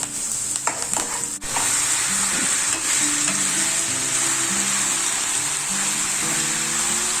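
Chicken pieces go into a hot pan of Mangalore-style chicken curry with curry leaves, giving a steady, loud sizzle and frying hiss with stirring clatter throughout, no talking.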